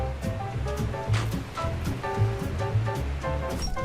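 Ocean surf rolling onto a Hawaiian shore, the steady wash of breaking waves filling the background with continuous low rumble and hiss, moderately loud throughout.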